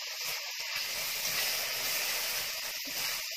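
Soaked, washed chickpeas tipped into a pan with onion and garlic give a steady, close hiss of frying that holds evenly throughout, with no talking.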